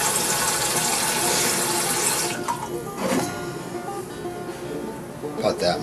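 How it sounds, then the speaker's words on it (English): Water runs and splashes into a pan on a kitchen stove while making ramen, a steady rushing pour that fades partway through, with someone talking over it. "Put a little water in the pan."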